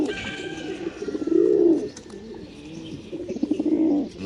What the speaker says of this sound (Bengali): কবুতর ডাক দেখেন দর্শক